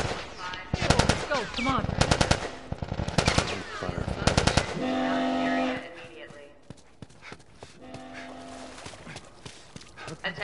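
Gunfire in The Last of Us Part I video game: several rapid, loud automatic bursts close by, then sparser shots mixed with tense shouting voices.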